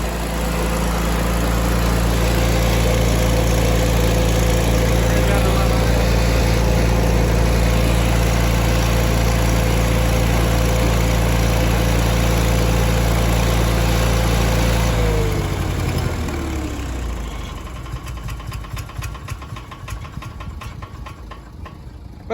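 Engine-driven welder, in need of a tune-up, idling loud and close with a steady low drone for about fifteen seconds, then dropping in pitch and winding down to a rougher, uneven chug.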